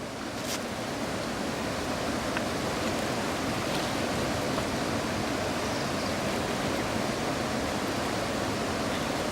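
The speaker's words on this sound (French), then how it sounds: "nous arrivons au rapide qui marque le début de la zone des chutes Enki" Roaring river rapids at the head of the Enki falls, a steady dense rush of water, loud and close, running unbroken throughout with no voices.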